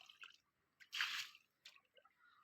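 Rice water poured onto vegetable plants, a short wet splash of liquid hitting leaves and soil, with faint drips and trickles just before and after.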